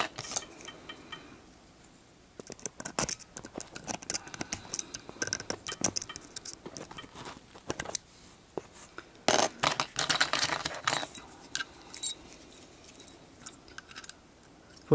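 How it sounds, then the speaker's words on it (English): A metal key sliding into a pin tumbler lock, a series of light scraping clicks and jingles of the key ring, close up and quiet with brief pauses between bursts. "We insert the key into the lock."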